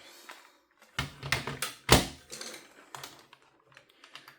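Calculator buttons are pressed in a quick irregular series of sharp plastic taps and clicks, some louder, close by and with no talking.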